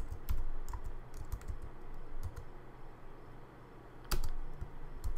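Quick bursts of computer keyboard typing, a few keystrokes at a time with short pauses, heard up close over a low steady hum.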